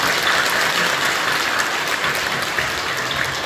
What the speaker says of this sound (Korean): 박수로 경배해 주시기 바랍니다.